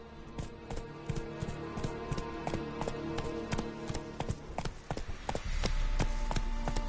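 Hooves of Roach, a horse in The Witcher 3 on PS4 Pro, clip-clop in a steady running rhythm, close and clear, with a heavier rumble joining near the end.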